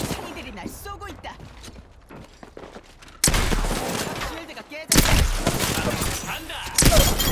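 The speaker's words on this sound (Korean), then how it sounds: "적이들이 날 쏘고 있다." Enemy gunfire rattles in the video game Apex Legends, beginning as scattered shots and mechanical clicks, then switching to sustained, loud bursts of automatic fire in several waves.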